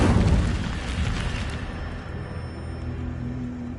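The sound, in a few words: Incendio fire spell cast in Hogwarts video game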